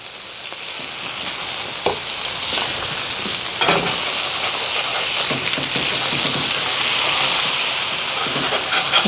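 Halibut fries in avocado oil on a hot griddle, a loud, steady close-up sizzle and hiss with occasional crackles and spatters throughout.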